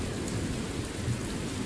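Steady rain falling in the video game Ranger Danger, a dense, even hiss and patter that holds at constant loudness throughout without any break.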